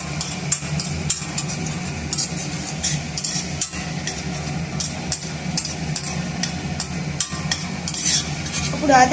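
Raisins are stirred through a hot pan, giving a close, fairly loud scraping and rustling with frequent sharp clicks and ticks from the spoon against the pan over a constant sizzle.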